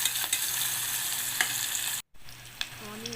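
Sliced onions frying in oil with green chillies for coriander rice, giving a steady hissing sizzle with a few faint clinks, briefly cut off before a quieter stretch.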